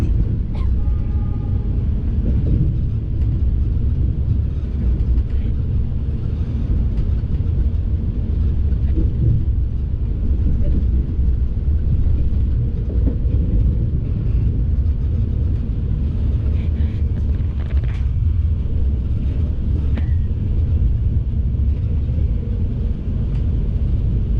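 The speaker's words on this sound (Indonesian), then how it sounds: "Kereta api Parahyangan dari arah Bandung, bawa kereta priority." The Parahyangan passenger train from Bandung runs past as a steady, loud, low rumble of wheels and engine that holds evenly for over twenty seconds, with faint metallic clanks along the way.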